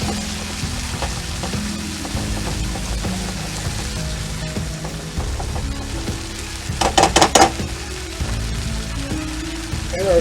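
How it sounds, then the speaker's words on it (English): Garlic and ginger heating in a pan and being stirred, a constant moderate sizzle under scattered clinks and scrapes, with a short burst of sharper crackling partway through. "Add our garlic and our ginger. Get that heating up and just stir it in."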